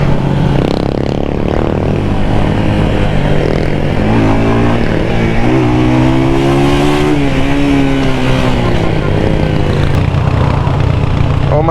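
New 250cc Rebel T Special Edition motorcycle ridden hard, its engine revving and climbing through the gears as a loud, continuous close-up roar with rising and falling pitch and wind noise.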